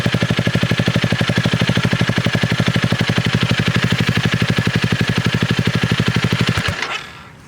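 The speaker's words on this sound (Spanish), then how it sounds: "Si nos dirigimos al escape, veremos cómo el motor produce potencia en pulsos." A piston engine's exhaust thumps out rapid, evenly spaced pulses at a steady idle, loud and close, before the engine cuts off and the sound dies away into a short rattle.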